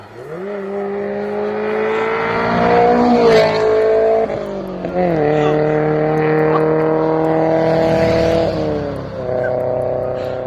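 A loud, aggressive Toyota MR2 engine through a Toyosport exhaust revs and roars, rising and dropping in pitch across several throttle pushes, with brief shouts and voices mixed in.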